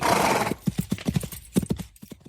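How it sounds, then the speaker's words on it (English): Hooves of a ridden horse clip-clop at a steady walking pace as the rider departs, about a dozen clear, fairly close hoofbeats following a brief burst of noise, with no talk over them. "Thad Bannon rode for several days, stopping only to give his horse rest before continuing towards his goal."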